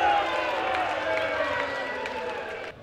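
Crowd at the Seniors World Matchplay darts match cheering and applauding after a big moment, a loud sustained roar and clapping that slowly fades, then drops off at the end.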